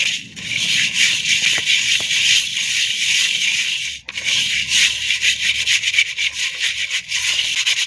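Snail meat is rubbed and tossed with salt and turmeric, giving a continuous gritty scraping and rubbing, close and fairly loud, with a brief pause midway.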